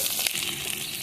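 Spice paste with panch phoron frying in a hot wok for a vegetarian bean curry, a dense continuous close sizzle with a brief crackling burst, no voices.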